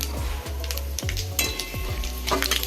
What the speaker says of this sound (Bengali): আমি শুকনো লঙ্কাটা দিলাম যাতে টেস্টটা সুন্দর হয় এই যে সম্বারা দিয়ে দিলাম